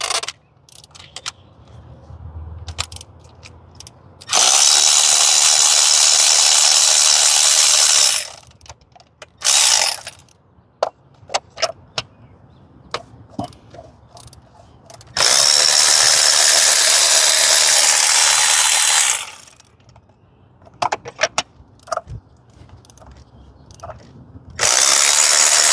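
Ratchet breaking loose spark plugs on a Hyundai Sonata, with two long bursts of rapid loud clicking separated by quieter handling clatter and short ratchet clicks.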